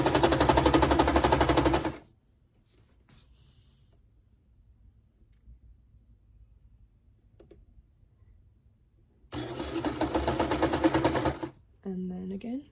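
Sewing machine running along a T-shirt seam in two fast rattling bursts, close and loud, separated by a long near-silent pause, with a voice speaking briefly at the end.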